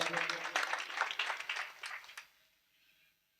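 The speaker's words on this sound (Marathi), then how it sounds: "एक वेळ त्यांच्यासाठी सुद्धा टाळ्या होऊ द्या" Audience clapping at a kirtan, a burst of dense applause that fades out after about two seconds and then leaves near silence.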